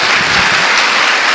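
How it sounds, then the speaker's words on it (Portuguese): A church congregation claps loudly in praise of Jesus during a Portuguese-language worship service, a dense, steady burst of applause with no voices over it. "Dê uma salva de palmas a Jesus."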